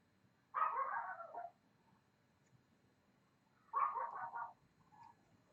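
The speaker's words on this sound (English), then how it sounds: "Right, dogs are barking." Two short bursts of dog barking or yelping, each about a second long and a few seconds apart, fairly distant over a quiet background with no talking.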